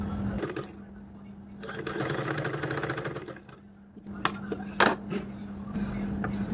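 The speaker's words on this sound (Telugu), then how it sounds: "ఇప్పుడు స్టిచ్ వేసుకోవాలి" A sewing machine stitching fabric for an umbrella dress runs in steady motorized bursts with a constant hum, joined by sharp clicks near the end. It is close and fairly loud.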